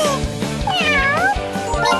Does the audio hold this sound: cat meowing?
yes